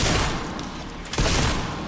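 Dense, sustained gunfire fills the Resident Evil Requiem game scene, a loud continuous barrage with a sharp burst partway through, no talking over it.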